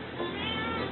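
A pet cat lets out a single drawn-out meow, close and clear, lasting about a second with no talking over it.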